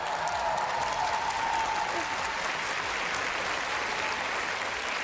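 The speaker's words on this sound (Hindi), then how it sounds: "पूरा स्टेडियम तालियों की गड़गड़ाहट से गूंज उठा" A large stadium crowd applauds steadily after a national anthem, a dense, loud roar of clapping that fills the whole space without pause.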